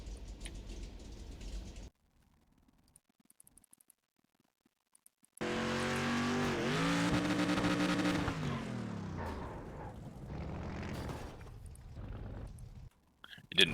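Street stock race car in the iRacing video game slamming into a wall, a loud crunching impact with engine roar and scraping that slowly fades, after a near-silent pause and a brief earlier burst of engine noise.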